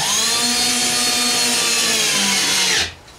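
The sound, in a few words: driving an inch and a quarter screw into wood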